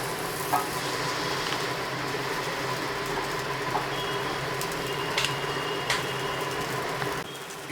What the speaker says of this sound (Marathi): ते आता मी गॅसवरती भाजून घेणार आहे.